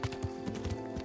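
Horse hooves clopping in the medieval game Kingdom Come: Deliverance, a steady rhythmic clip-clop of several quick beats over a continuous low game hum, close and moderately loud with no talk.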